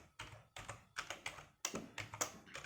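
Typing on a computer keyboard for C code, a quick run of close, crisp key taps arriving in uneven bursts with brief pauses between, with no talking.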